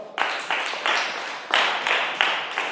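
A primary school class claps for a pupil in a steady, rhythmic pattern of repeated group claps, fairly close and without talk.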